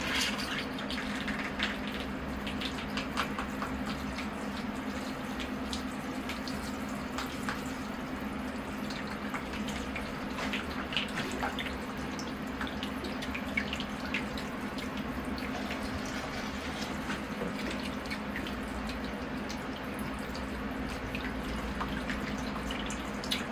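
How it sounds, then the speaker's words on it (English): Water trickles and drips steadily over the soil of a freshly repotted ficus bonsai in a sandy mix, a soft continuous pour close by with no talking. "So now I am ready to water the tree."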